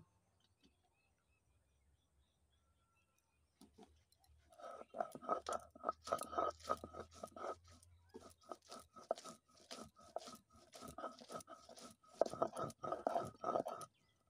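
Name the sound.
grinding ripe red chillies into paste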